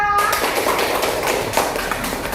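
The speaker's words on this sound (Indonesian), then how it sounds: "Kita kasih tepuk tangan untuk Arisa." A classroom of Indonesian students claps for a classmate named Arisa, a brief burst of dense, fairly close applause lasting a couple of seconds.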